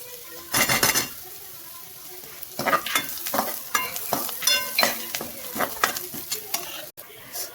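Onion and crushed garlic frying in a pan while being stirred, loud sizzling bursts with rapid metallic scraping and clinking of the spoon in quick rhythmic strokes, close up and with no talk.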